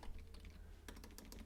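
Quick, irregular clicks of typing on a computer keyboard, close by, over a low steady hum with no voices.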